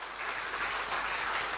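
Sustained audience applause at a motivational speaking event, a dense, steady wash of many hands clapping at moderate loudness with no voices over it.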